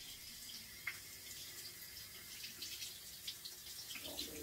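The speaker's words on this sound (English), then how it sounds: "I'm gonna quick wash off my asparagus." Tap water runs over fresh garden asparagus being rinsed at a kitchen sink, a faint, steady hiss with small splashes and patters as the spears are turned under the stream.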